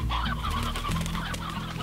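Chickens clucking inside the video game Slime Rancher, a busy layered run of clucks and squawks over steady game background sound, fairly loud and with no talk.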